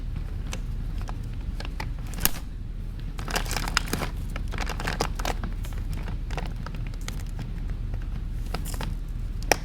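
Scissors snip through plastic packaging from a Viva-Lift power recliner, with steady crinkling and rustling of plastic and several sharp snips and taps close by, no voices.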